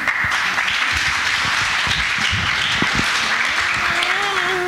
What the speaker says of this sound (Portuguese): Vamos saudar com um aplauso.